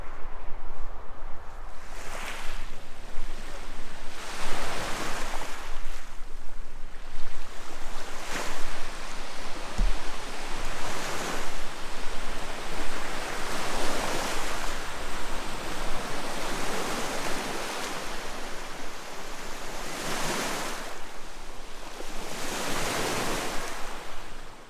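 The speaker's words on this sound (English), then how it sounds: "here's the beach" Waves breaking on a beach in Ontario, a steady roar of surf with repeated surges rising every few seconds, close and continuous, no voices.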